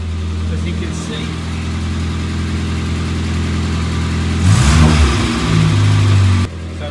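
A Morris Minor engine idles loudly up close, then revs harder as it is put in gear, with a clunk partway through before it settles back to a steady drone.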